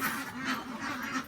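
Ducks on a farm quack in a nasal, repeated chorus, close and loud, with several overlapping calls arriving in quick rhythmic bursts.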